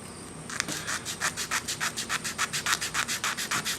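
Hand sanding of an electric guitar body with 400 grit sandpaper, a brisk run of about fifteen rhythmic back-and-forth scratchy strokes, close and fairly quiet, with no talk.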